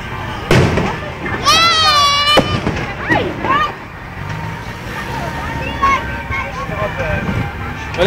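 Christmas fireworks display bursting over the Mall of Asia, heard as several sharp booms and crackles with whistling streaks, mixed with crowd noise and people talking nearby.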